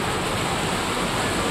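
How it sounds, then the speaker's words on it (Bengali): Heavy rain pours down steadily outside a doctor's clinic, a dense, unbroken hiss that fills the whole moment with no voices over it. "দেখো কি জোরে বৃষ্টি এসেছে"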